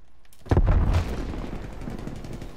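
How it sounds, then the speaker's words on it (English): Grenade explosion in Call of Duty Black Ops Cold War: a single heavy booming blast with a deep low rumble that quickly fades into a softer, lingering roar, no talk. "Throw a nade."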